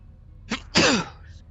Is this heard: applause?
no